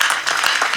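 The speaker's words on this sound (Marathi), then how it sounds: "तुमच्याकडे टाळ्या अशा मनसोक्त वाजत नाहीत का?" Hearty audience clapping at a Marathi kirtan, a brief burst of dense, loud applause from many hands filling the moment.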